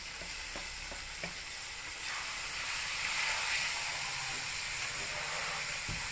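Chopped tomato hitting hot oil in a pan already holding fried green chili, ginger paste and garlic paste for a crab curry, a steady close sizzle and hiss with a few scraping stirs early on.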